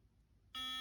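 A GuruNanda Cruiser sonic toothbrush switches on halfway through, giving a loud, steady, high-pitched electric buzz that holds evenly to the end after a near-silent start.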